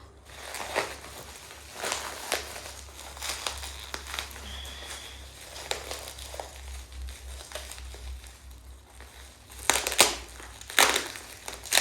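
Hands tear open the packaging of a cosmetics PR package without scissors. Close, crackly rips and crinkling crunches come in irregular bursts, building to a busier flurry near the end.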